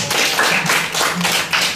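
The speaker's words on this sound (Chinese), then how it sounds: "那我们掌声两下" Classroom applause from sixth-grade primary school students in a Taipei technology lesson, a short burst of clapping that pulses in two or three quick waves and fills the room fairly loudly, with no voices over it.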